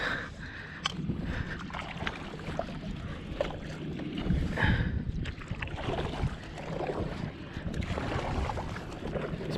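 A paddle dips and pulls through shallow water beside a small boat, with soft splashes and sloshing over a steady wash of wind noise, close up and continuous.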